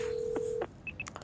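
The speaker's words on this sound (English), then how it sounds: "I find it on my phone and give her a call." A phone number is dialed in a video game: a steady tone cuts off, followed by a quick run of short, distinct keypad beeps, fairly quiet and with no voices.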